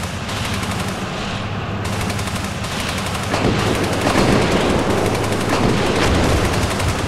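Incoming fire in the tank simulator Steel Beasts Pro rattles as a dense, continuous crackle of rapid shots that swells louder midway, with heavy rumbling underneath and no voices.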